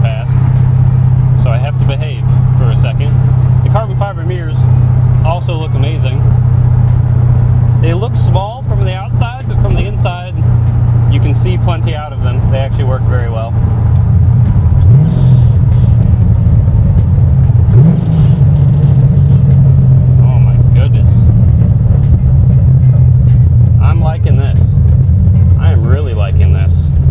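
An LS2 V8-powered Datsun 280Z drives with a steady low engine drone throughout, rising briefly in pitch as it accelerates, while someone talks over it for much of the time.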